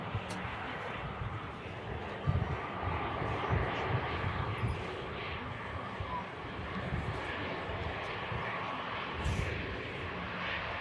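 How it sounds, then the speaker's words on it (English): A ten-year-old EasyJet Airbus A320 from Nice touches down at Manchester Airport, its engine roar a steady, fairly distant rumble with wind buffeting the microphone throughout and no clear voices. "It's EasyJet touching down from Nice."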